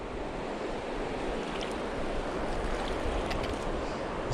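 Swift river water rushing steadily over rocks on the Williams River, a continuous broadband roar that stays loud and even throughout with no voices.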